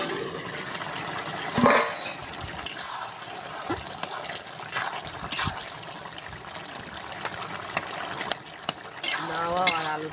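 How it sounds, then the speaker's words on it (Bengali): A metal lid comes off a cooking pot in which bottle gourd and potatoes are simmering for a village-style Bengali dish. Sharp clanks and scrapes stand out against a busy background of kitchen clatter and outdoor noise. "চাপাটা খুলে নেব।"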